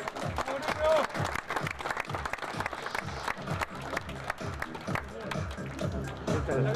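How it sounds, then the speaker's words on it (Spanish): Audience applause at a sports festival honouring adapted athletes, a dense patter of clapping that continues steadily over several seconds, with a speaking voice running over it. "Un aplauso, por favor, para Oscar Díaz."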